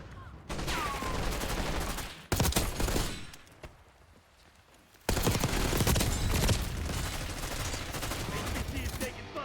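Heavy automatic gunfire rages in Call of Duty Modern Warfare III, a dense fusillade for the first two seconds, a brief lull, then a sustained loud barrage of overlapping weapons through the end.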